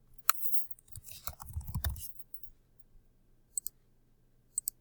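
Sharp computer mouse clicks, one at the start and two quick pairs near the end, with soft shuffling handling noise in between, all close and quiet in a still room.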